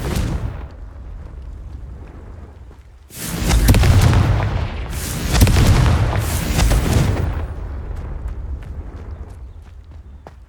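Fire-blast explosions from the Confringo spell in Hogwarts Legacy, two loud, booming bursts in close succession, each with a long rumbling tail that fades over the final seconds, heard over low background game ambience.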